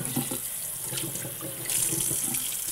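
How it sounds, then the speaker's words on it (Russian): Tap water runs steadily into a sink for handwashing, a close, continuous splashing gush that carries on without pause and with no talking. "Ну, включаем воду, смоем все, что у нас тут, по крайней мере, лишнее."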